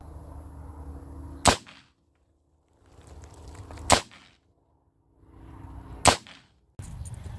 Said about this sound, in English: Well, you can see I had 2 good shots.